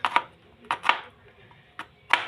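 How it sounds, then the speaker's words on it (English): A knife chops onion and garlic on a board in a backyard farm kitchen, coarse cutting for a boiled rabbit meal, giving about six sharp separate knocks in an uneven rhythm, close and moderately loud. "we are not chopping it finely because we are just going to add them so that it can boil"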